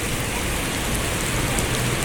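Heavy rain that has suddenly started pouring on a day trip to Singapore, a dense, even roar of downpour hitting surfaces, loud and constant throughout with no talking.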